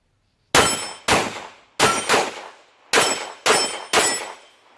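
Pistol shots from Federal factory ammunition, 115 and 165 grain loads, fired at a chronograph session: seven sharp, loud reports in uneven pairs and singles over about four seconds, each with a short ringing decay and no talk.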